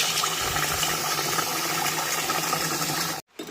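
Rice is washed in water in a village kitchen, with continuous sloshing and swirling close up, then a sudden short break before the splashing resumes.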